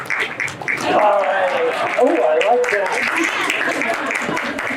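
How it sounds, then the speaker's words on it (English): An audience at a live magic show applauds a volunteer, sustained clapping filling the room for several seconds while someone speaks over it. "How about a big round of applause for Jacob"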